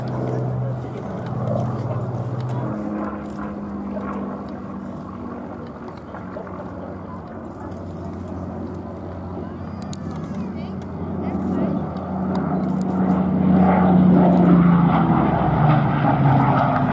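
A Hawker Hurricane in Mark I colours runs its engine at the Duxford airfield: a continuous propeller drone that holds steady, then grows louder and nearer towards the end.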